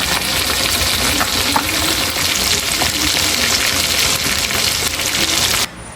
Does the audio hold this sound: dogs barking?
no